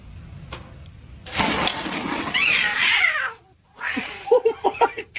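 Kittens meowing and caterwauling in a series of drawn-out, wavering cries followed by a quick string of short high mews, close and fairly loud, with a brief pause between bursts.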